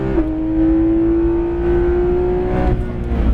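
A Porsche 911 GT3 RS PDK 991.2 on track at Le Mans revs hard under acceleration, its engine note climbing steadily, loud and close, then briefly changing pitch as a gear shifts near the end.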